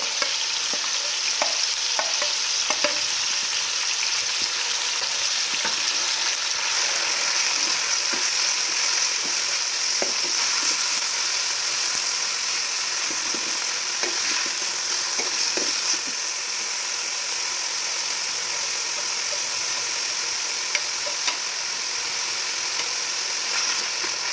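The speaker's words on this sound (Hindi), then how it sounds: "इसको अच्छे तरीके से हम फ्राई करेंगे घी के अंदर" Diced pumpkin frying in ghee for kaddu halwa, a steady dense sizzle and hiss that runs without pause, with occasional scrapes and knocks of stirring in the pan.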